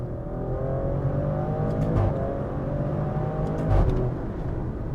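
A Maserati Grecale Trofeo with all-wheel drive accelerates hard, its engine a loud, sustained drone that swells twice as it climbs through the gears, heard from inside the cabin.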